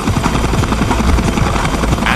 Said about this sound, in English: As the helicopter gets closer